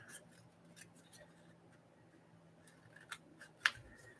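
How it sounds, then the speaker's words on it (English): Scissors snip around a paper shape at a craft table, giving a few faint, sparse clicks and one sharper metallic snap near the end over quiet room tone. "I'm just going to trace around it with my scissors"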